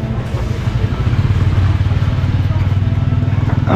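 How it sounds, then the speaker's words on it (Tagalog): Busy street traffic with motorcycle engines rumbling and passing close by, a steady loud low drone throughout with no talk. "Traffic."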